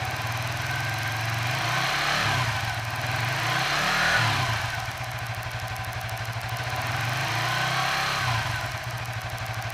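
A Suzuki FU 150 FI motorcycle engine held at middle RPM, a steady buzzing idle-to-mid rev that swells slightly around the middle, loud and close with no talk.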